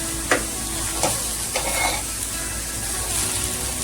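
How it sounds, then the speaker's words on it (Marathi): Cluster beans being stir-fried in a pan, a steady sizzle with a few sharp scraping strokes of the spatula early on, close and moderately loud, with no one talking. "एका बाजूला आपली गवार कणसा आपण परतून घेतली की बंद करा गॅस"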